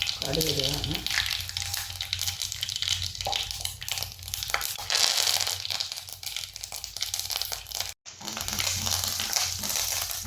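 Fenugreek seeds and a piece of asafoetida frying in sesame oil for tomato pickle, a loud, close crackling sizzle with busy spattering that runs steadily, broken once by a brief gap.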